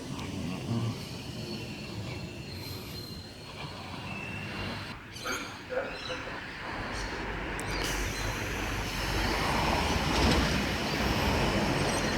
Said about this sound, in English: S41 is now departing platform number 1 Carlingford only service.